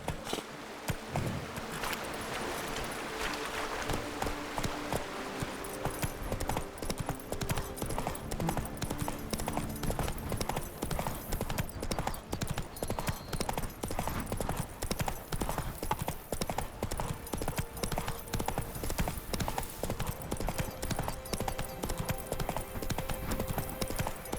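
Horse hooves galloping steadily in The Witcher 3: Wild Hunt on PS5, a brisk rhythmic clip-clop running close and continuous throughout, with a brief whinny early on.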